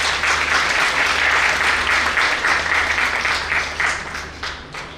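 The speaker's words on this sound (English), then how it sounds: "A big round of applause for us." Sustained applause from a large audience at an international academic conference day session, steady and dense for several seconds before easing off slightly toward the end.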